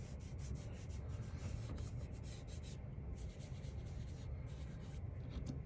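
Chalk is rubbed and blended across an owl drawing, a soft, close, continuous scratchy scrubbing with quick back-and-forth strokes and brief pauses, with no speech.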